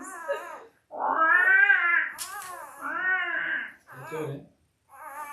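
Five-day-old Labrador puppies whine in a series of high, wavering cries, several drawn-out calls close by with short gaps between them.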